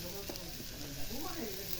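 Vegetables frying in a pan give a soft, continuous sizzle with occasional stirring sounds, fairly faint, with faint voices in the background.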